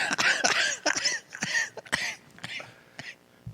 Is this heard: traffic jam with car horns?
no